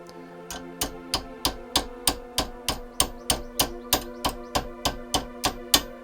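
Metal pin hammered into the socket of a medieval longbow arrowhead while held with pliers, about twenty sharp, evenly spaced taps with a ringing metallic tone, close and loud.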